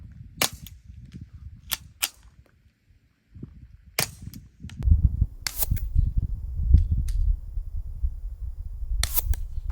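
Suppressed firearm firing subsonic .22 rounds: several sharp, quiet cracks spaced irregularly, with faint handling noise and a low rumble of movement between them.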